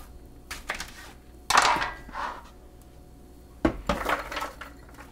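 Chopped pear pieces dropped into a blender jar land in two loud clusters of hard clattering thunks, with lighter knocks and handling sounds in between, close up.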